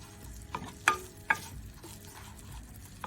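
Vermicelli stirred in a pan as it fries toward brown for Lebanese rice, with a low sizzle and a few sharp scrapes and clinks of a utensil against the pan, no one speaking.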